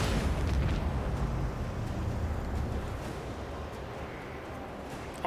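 Torpedoes launched and detonating in the space game Foes of Creation, a loud sustained rumbling boom that fills the clip and slowly fades, with no talk over it.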